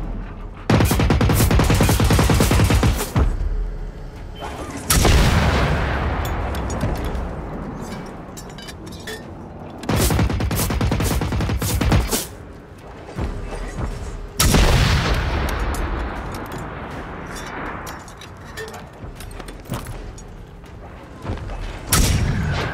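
Heavy, booming gunshots from a not very accurate gun in the video game Generation Zero, loud bursts separated by short gaps, with ringing tails and a thudding impact between firings.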